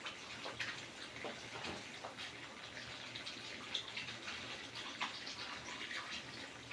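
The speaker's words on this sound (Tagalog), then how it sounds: "Tapos ka na dito maglaba ng abaya" Running water splashes steadily while an abaya is washed by hand, a continuous close wash with small irregular splashes and no voices.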